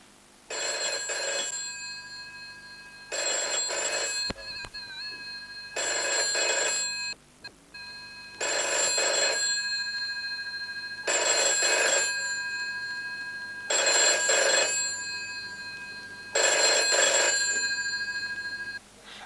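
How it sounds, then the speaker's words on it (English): An old-style telephone bell rings in six evenly spaced bursts, each about a second and a half long and separated by short pauses. The ringing is loud and close, with a steady, slow rhythm and no talking. "the telephone ring has a regular beat"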